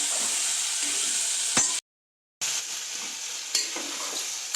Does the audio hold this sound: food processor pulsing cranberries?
no